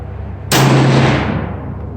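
A single loud Browning AB3 rifle shot fired with a copper GMX bullet from a cold bore on an outdoor range, a sharp close crack followed by a long decaying echo.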